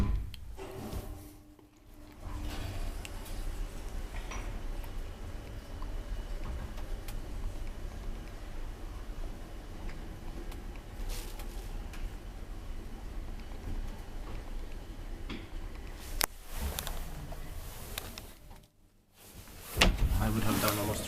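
An old Valmet Otis traction elevator in a late-1980s building in Myyrmäki, Vantaa runs with a steady low mechanical hum and rumble, with a few brief clunks and a short quiet gap near the end.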